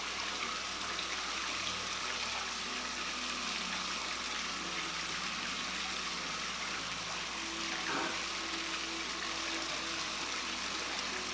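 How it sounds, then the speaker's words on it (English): Cold water running steadily from a tap into a bathtub, a constant close hiss and gush of flowing water with a faint voice briefly underneath. "I'm gonna add some cold water to cool this off a little bit"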